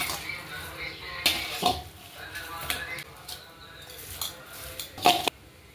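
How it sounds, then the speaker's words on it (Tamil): A spoon stirs a ground Andhra chili, tamarind and salt paste in a pot, giving sporadic scraping clinks and knocks against the vessel between quieter moments, with some talking. "ஒரு வாட்டி நல்லா கலந்து விட்டுக்கலாம்"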